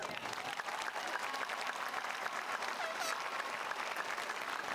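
Steady, dense applause from a high school graduation audience fills the moment, many hands clapping continuously at an even level with a faint crowd murmur beneath.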